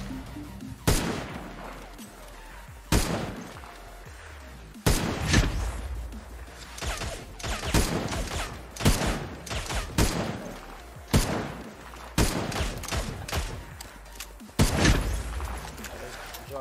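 Gunfire in the video game Cyber Hunter: repeated sharp shots and short bursts in irregular clusters, loud and close, with a person talking between them.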